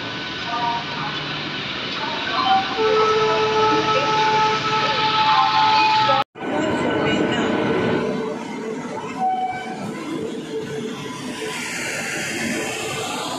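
Train running after leaving Howrah station, heading out toward Khirai; a steady loud rumble of the moving carriages fills the whole stretch, briefly cut out midway, with occasional tonal squeals and faint voices in the background.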